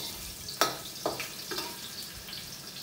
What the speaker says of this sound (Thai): ผัดเต้าหู้ของเรานะครับให้สุกเหลืองเลยนะครับ